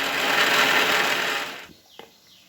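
A kitchen grinder whirs loudly, blending garlic, cashews and almonds into a paste, a steady close drone that cuts off abruptly, leaving a brief clack and faint room noise.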